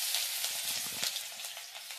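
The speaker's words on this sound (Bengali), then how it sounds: "প্রথমে দেব রসুন কুচি" Minced garlic sizzles steadily in hot oil, a soft, continuous crackling fry with small pops, close and alone without any talk.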